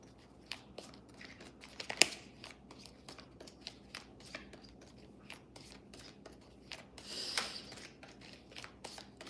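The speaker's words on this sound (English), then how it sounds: "Sorry, it's a lot of shuffling." Tarot cards being shuffled up close in a quiet room, a run of soft riffling, rubbing and papery taps with one sharper snap early on and a denser flurry near the end.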